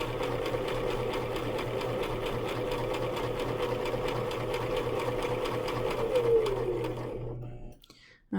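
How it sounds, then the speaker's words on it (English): A sewing machine runs steadily as it stitches a square of fabric close beside the presser foot, a close, even mechanical whir that fades and stops just before the end. "I'm keeping that stitch line right up next to that presser foot."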